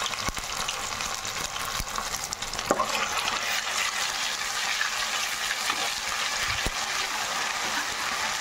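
Ginger garlic paste frying in hot oil for fish pickle gives a steady, close sizzle and bubbling hiss, with a few faint spoon clinks against the pan now and then.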